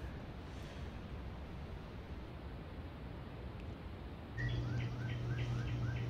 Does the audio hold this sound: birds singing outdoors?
yes